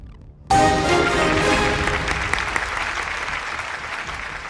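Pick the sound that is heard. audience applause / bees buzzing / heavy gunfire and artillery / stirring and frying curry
audience applause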